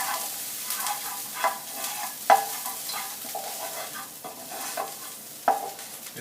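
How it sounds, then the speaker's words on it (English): Ginger stir-fries for masoor dal with a soft, continuous sizzle, punctuated by occasional sharp clacks of a utensil against the pan. "So I'm going to put the ginger in. Stir fry that"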